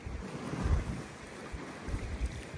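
Strong wind buffets and rumbles across the microphone in uneven low gusts outdoors in Scandinavia, with no voices.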